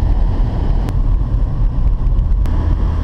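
A brand new manual car drives along with a deep, steady engine rumble that sounds like a truck, loud and continuous with wind buffeting and no talk.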